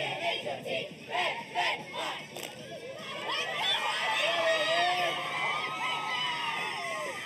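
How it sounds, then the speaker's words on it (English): A parade crowd in Big Lake at Spud Fest chants a rhythmic cheer, then breaks into a swell of excited shouts and screams from many voices, including children. "Oh, this is a cheer that we did."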